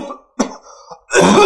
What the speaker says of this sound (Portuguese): Depois vou cortar essa tosse.